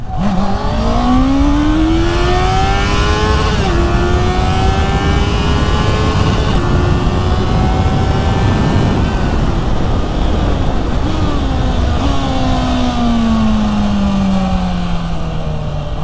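A 2022 Honda CBR 650R motorcycle accelerates hard through the gears, its engine note climbing in loud repeated pulls with short dips at each shift, sustained and close for the whole stretch.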